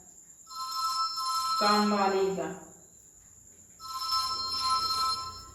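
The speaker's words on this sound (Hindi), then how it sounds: "घंटी बजी, पता नहीं किसका फोन आया हुआ है" A phone rings indoors with a bright, repeating electronic ringtone in two bursts, and a voice speaks briefly between them.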